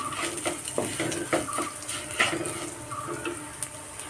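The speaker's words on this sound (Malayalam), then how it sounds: "നന്നായിട്ട് ഇളക്കി കൊടുക്കാം" A spoon stirs rava upma in a metal pan, scraping and clinking against the sides in quick irregular strokes, close up with faint background hiss.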